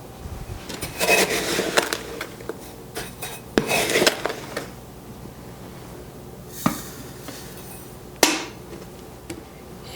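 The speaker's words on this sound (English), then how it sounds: "So to this mixing bowl, we'll add our 2 cups of sugar" Granulated sugar, two cups, poured into a stainless steel mixing bowl on a stand mixer, giving a gritty hiss with several clinks and knocks against the metal, close and fairly quiet, coming in bursts with pauses between.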